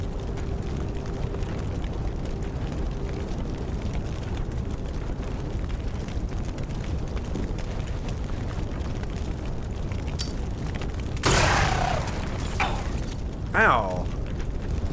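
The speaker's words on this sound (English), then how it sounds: "Do we want to try a frag grenade?" A frag grenade goes off in the Xenonauts 2 video game with a brief crashing burst, then a smaller crackle, all over steady game ambience and background noise.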